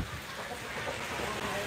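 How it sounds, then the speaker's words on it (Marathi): Continuous steady rain falls outside a goat shed in a muddy farmyard, a dense even hiss that holds level throughout with no break or swell. "कंटिन्यू पाऊस सुरू आहे संततधार"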